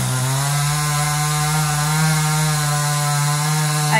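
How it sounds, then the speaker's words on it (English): A 60cc chainsaw with a 20-inch bar runs loud and close, holding a steady high-revving whine as it cuts wood, with no pauses or voices throughout. "Using his new chainsaw from Amazon."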